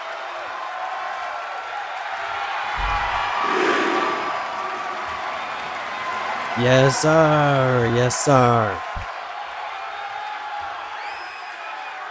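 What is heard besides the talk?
wrestling crowd cheering at ECW Unstoppable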